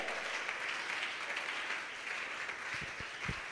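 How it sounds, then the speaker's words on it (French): A church congregation claps and cheers in praise, a dense, loud, continuous wash of applause from a crowd filling the room, with a few low thumps near the end. "Acclame Jésus"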